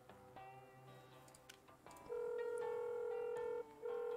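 Phone dialing in the video game Dave the Diver: a few soft electronic beeps followed by a steady, loud synthetic tone that holds, briefly cuts out, then resumes, with no talking.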